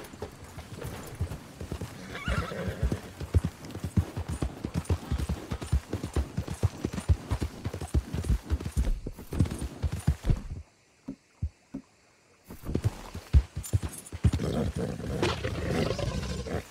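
A horse gallops in Red Dead Redemption 2, with rapid close hoofbeats drumming continuously, a brief near-silent break, then the galloping rhythm resumes with snorting and rumbling around it.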